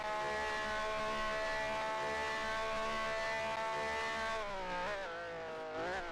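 Ferrari race car in a sim racing game, its engine screaming at high revs with a steady, loud harmonic whine that holds, then dips and climbs again through gear changes near the end.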